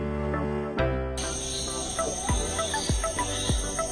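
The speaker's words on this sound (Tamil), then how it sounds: "வண்டுகளின் சத்தங்களுடன் முடிந்த எங்களின் முந்தைய நாள்" Night insects buzz and chirp in a continuous high-pitched drone, with steady tonal layers and scattered sharper calls repeating throughout at moderate distance.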